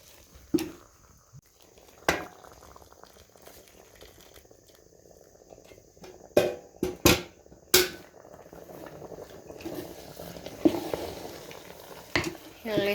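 Cabbage and groundnuts cooking in a pot, with a soft simmering sizzle broken by scattered clanks and scrapes of a spoon against the pot, some louder knocks in the middle.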